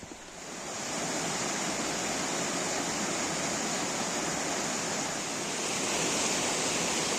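Loud, steady rush of a swollen river roaring without pause in woodland on the Wicklow Way, Ireland, a dense broadband wash close by, swelling slightly toward the end.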